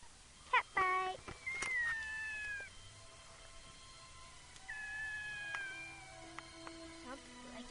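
Cats fighting and caterwauling indoors, with sharp yowls and drawn-out, wavering wails in bursts, separated by quieter gaps and short scuffling noises, fairly faint overall.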